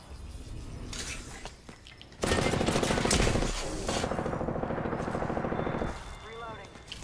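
Apex Legends gunfire erupts as a loud, sustained burst of rapid automatic shots lasting several seconds, preceded and followed by softer game sounds, with a voice speaking briefly near the end.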